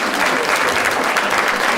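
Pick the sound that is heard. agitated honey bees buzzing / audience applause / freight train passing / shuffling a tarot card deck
audience applause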